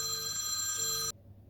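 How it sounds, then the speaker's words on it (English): A telephone rings with a steady, bright electronic tone, loud and close, then cuts off abruptly after about a second, leaving a quiet room. "Typical phone rings."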